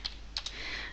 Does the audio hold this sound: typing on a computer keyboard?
yes